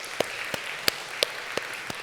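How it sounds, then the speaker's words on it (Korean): A church congregation at a Sunday youth service claps in thanks, steady rhythmic applause with about six evenly spaced louder claps standing out over a dense wash of hands. "하나님께 감사의 박수 올려드리면 좋겠습니다."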